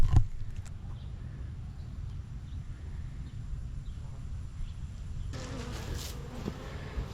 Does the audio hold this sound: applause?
no